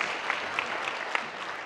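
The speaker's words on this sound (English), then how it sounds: "Very rarely do I get an applause" Audience applause fills a conference hall at an innovation and entrepreneurship talk, a steady wash of clapping with a few sharper claps standing out, close and continuous, with no speech.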